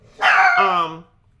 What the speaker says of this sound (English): Excuse my dog. He does this when I start recording.